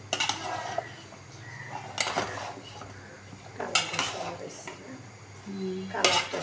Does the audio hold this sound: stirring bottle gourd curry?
yes